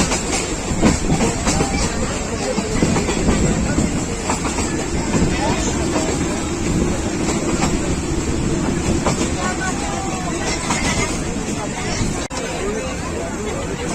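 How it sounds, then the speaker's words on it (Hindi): A Pakistan Railways train rumbles and clatters along the rails at moderate distance at Rawalpindi station while a crowd murmurs and people talk nearby, steady throughout. "रावलपिंडी से भी ट्रेन निकल रही है"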